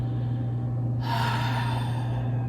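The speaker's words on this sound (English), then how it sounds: "Breathing." A single deep, audible inhale through the nose during a stress-release yoga stretch for hips and hamstrings, close and breathy, rising sharply midway over a low steady hum.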